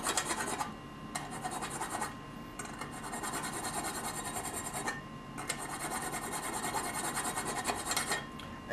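Hand filing of a part held in a clamp, a continuous close rasp of steady back-and-forth strokes with brief pauses between passes.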